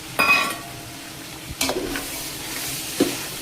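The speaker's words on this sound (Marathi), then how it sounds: "आता यात मी ॲड करणार आहे कॉर्न, स्वीट कॉर्न ॲड करते आणि पुन्हा चांगलं मिक्स करून घेते" Sweet corn being stirred into onion and capsicum frying in oil in a large pan: a few scraping knocks of the spoon against the pan over a soft sizzle, close and sparse, with no talk.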